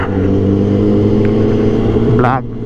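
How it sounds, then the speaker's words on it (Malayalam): A Triumph Daytona motorcycle with its stock exhaust rumbles nearby at a steady, loud engine note, then a brief rising rev near the end. "അത് ഡേറ്റോണ സ്റ്റോക്ക് എക്സോസ്റ്റ് ആണ്"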